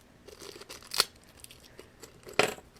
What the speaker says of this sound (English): I'm trying to open Agumon here.